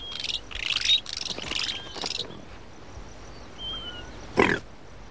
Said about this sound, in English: At the mouth of most of the larger burrows, there's a family of anteater chats.